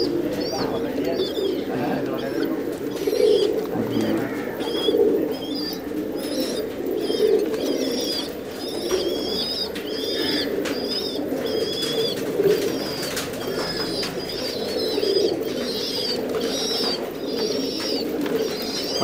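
A flock of pigeons in a loft keeps up a dense, steady cooing murmur throughout, with scattered higher chirps and faint bits of wing flutter, sounding close and constant.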